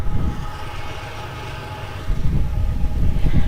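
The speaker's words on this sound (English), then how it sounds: "Train sounds compliments of Union Pacific." A Union Pacific train rolls past a baseball field in a continuous low rumble of wheels and cars, steady and fairly loud, swelling slightly toward the end.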